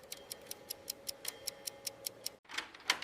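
A clock ticks steadily and crisply, with evenly spaced close ticks at a quick pace, then a short break and a brighter, busier burst of clicks near the end.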